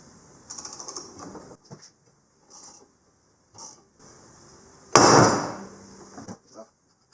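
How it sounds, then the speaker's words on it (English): Someone works a tool on a bolt of a Maverick X3 clutch with KWI clutching parts, making a series of short mechanical clicks and metallic scrapes separated by pauses, then one louder clunk and rattle near the end. "we're going to tighten this bolt down so it's pushing on the one in there"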